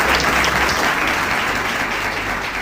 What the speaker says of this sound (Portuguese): a salva de palmas